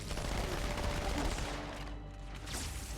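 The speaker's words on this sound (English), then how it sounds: "look at the power of this SMG" An SMG in Halo 2 on Cairo Station fires in a dense, continuous automatic burst, a rapid rattling stream of shots blending into steady battle noise.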